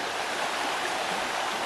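A forest stream at a hiking crossing in Pisgah National Forest rushes steadily, a loud, close, unbroken wash of flowing water with no voices.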